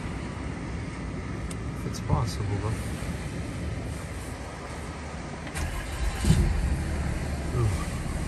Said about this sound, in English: I want you to listen to the engine sound,